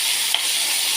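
Shawarma chicken pieces frying in a spoonful of ghee in a pan, a steady close sizzle and hiss with a faint stir partway through.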